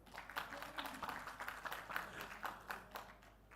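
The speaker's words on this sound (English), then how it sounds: "Let us hear it for him with a hearty round of applause." Light round of audience applause at a panel event on rural women entrepreneurs, scattered claps at moderate level filling a few seconds with a soft, uneven patter.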